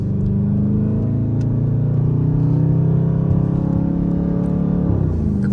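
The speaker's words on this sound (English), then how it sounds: "I would shift now, right?" A Dodge Charger engine revs loud and close, holding a steady droning pitch that climbs slightly before dropping sharply near the end as an upshift through the paddle shifters cuts in.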